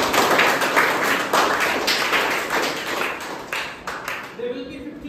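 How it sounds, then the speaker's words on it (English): An audience at a defence academy quiz competition claps together, a dense, continuous patter of many hands close by that thins slightly toward the end. "Let's clap, everyone."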